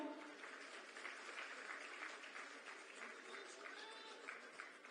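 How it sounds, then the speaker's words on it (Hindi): Audience applause at a Jharkhand government event where appointment letters are handed to young women, a sustained wash of many hands clapping, steady and moderately distant for the whole stretch. "तालियां आपकी तरफ से जरूर हों।"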